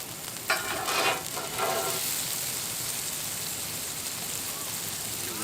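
A smashburger patty fries in butter on a hot surface, giving a loud, steady sizzle with a couple of brief stirring or scraping bursts near the start, and no talk.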